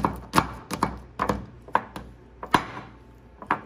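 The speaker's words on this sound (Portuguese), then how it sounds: "Esmagando assim, é mais fácil para depois ir misturando aos poucos." Pieces of Bubbaloo chewing gum being crushed and pressed, a series of sharp, irregular thuds and cracks spaced a fraction of a second apart, close and fairly loud with no voices.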